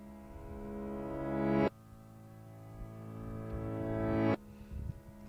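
A reversed sample for a drum and bass track, made up of two sustained tones that slowly swell in loudness and then cut off abruptly, one after the other, with no other sound.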